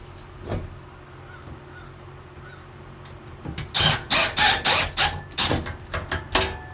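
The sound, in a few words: driving a screw into a wooden beam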